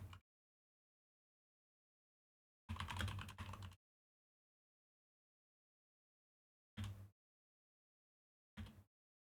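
Computer keys clatter in short separate bursts: one longer run of rapid typing, then two brief taps, with silence between them.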